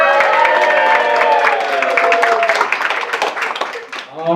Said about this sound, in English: Big cheer for Piper.